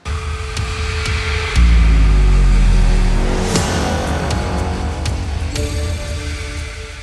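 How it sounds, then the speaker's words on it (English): Huge sub-drop in electronic music production, a loud deep bass swell that hits suddenly and slowly fades, under ongoing synth and percussion layers with sharp transient hits. "there's like a huge sub-drop happening"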